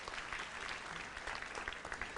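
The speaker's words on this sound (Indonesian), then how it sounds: "Yang percaya dan yakin beri tepuk tangan untuk Tuhan Yesus." A church congregation claps steadily throughout, a dense, even wash of applause from a large crowd filling the hall without a break.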